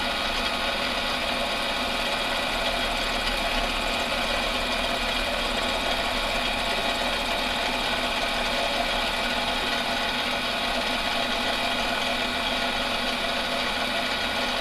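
A lathe machining a shock part steadily for the whole span, a loud continuous mechanical whine and hum with a constant dense texture and no talk.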